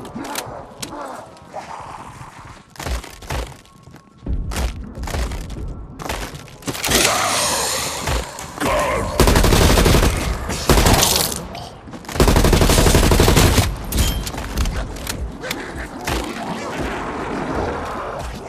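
Gunfire in Call of Duty Black Ops Cold War Zombies: bursts of rapid automatic shots and sharp cracks in dense clusters, loud and near, with brief pauses and a game voice line in between.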